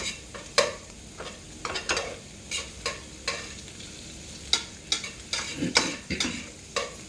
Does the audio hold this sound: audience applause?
no